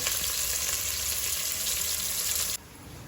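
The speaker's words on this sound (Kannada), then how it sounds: "ಈರುಳ್ಳಿ ಚೆನ್ನಾಗಿ ಫ್ರೈ ಆಗಲಿ ಅಂತ" Dried curry leaves and an onion fry in oil, a loud, even sizzling hiss close by that drops sharply in level near the end, with no voices.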